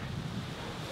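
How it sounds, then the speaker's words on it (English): Wind blowing outdoors during a home workout, a brief steady rush of noise buffeting the microphone, close and continuous with no talking. "The wind is trying to blow my yoga mat over."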